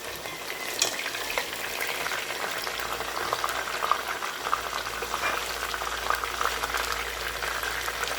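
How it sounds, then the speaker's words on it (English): Pork pieces deep-frying in a pot of hot oil for sweet and sour pork give a continuous bubbling, crackling sizzle, steady and close, with occasional light scrapes of a slotted ladle. "the pork is pretty much done cooking, so what I will do is I will use this slated ladle to go ahead and remove it, leaving the oil inside the pot"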